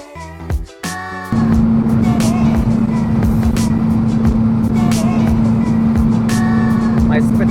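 A VW Beetle engine starts after a few brief sounds and then idles with a steady loud hum and a constant droning tone, close by, while a voice talks briefly over it.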